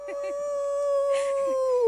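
Several people imitate a canine howl together, one long sustained wavering vocal tone that slowly falls in pitch over about two seconds, with faint murmuring voices and breaths underneath.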